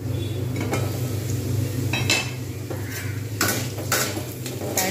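Potatoes frying over low heat in a pan for Bengali sago pulao, a steady soft sizzle with occasional stirring scrapes and clinks of a utensil against the pan, close and continuous, no voices.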